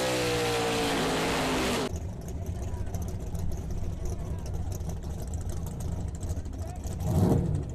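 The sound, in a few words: drag racing cars doing burnouts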